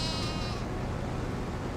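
A sheep in Farming Simulator 25 gives one short bleat over a steady bed of game engine and machinery noise.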